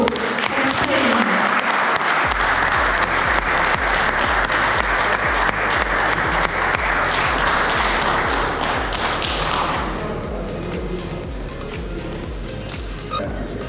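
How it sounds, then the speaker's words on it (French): Golf tournament spectators at the La Cigale Golf Open applaud winner Rocco Repetto, a dense, sustained burst of clapping with a steady low rhythmic thumping underneath that thins toward the end. "Je demande d'applaudir Rocco Repetto."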